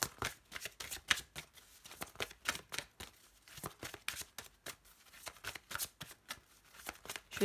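Heart chakra oracle cards are shuffled close up in a steady rhythm of quick, papery slaps and flutters, repeating for several seconds without any talking.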